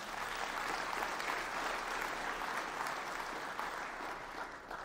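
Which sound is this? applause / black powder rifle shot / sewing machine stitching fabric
applause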